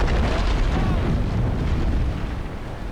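The ship Victory's magazine explodes in Naval Action as one huge, rumbling blast that fills the clip with heavy low roar and crackle, slowly fading toward the end.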